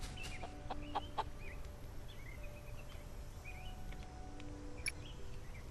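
Chickens cluck in the Solarpunk video game: scattered short clucks and calls over a quiet hum of ambience, with a few sharper peeps near the start and end.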